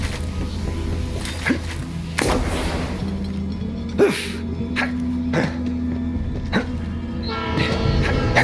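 A train running on a railway in the Borderlands 3 video game rumbles steadily with rattling wagon clanks and a long horn-like tone, while a narrator's voice talks over it.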